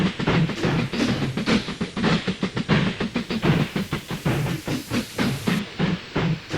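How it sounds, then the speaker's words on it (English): Two steam locomotives pull into a station together in the train-building game Mashinky, with a steady rhythmic chuffing and hissing that carries on throughout with no talk. "Two steam trains are arriving at the same time, one dropping off, one picking up."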